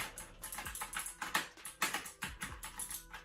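Keyboard arrow keys fitted with KontrolFreek grips clack in a quick, irregular typing rhythm, close and fairly soft, with no voices.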